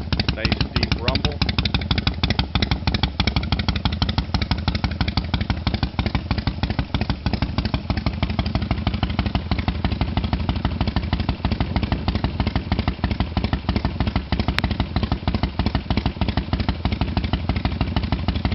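Loud and close, a 1997 Harley-Davidson Road King with Hooker exhaust idles steadily, its deep, loping exhaust rumble beating evenly with no break throughout.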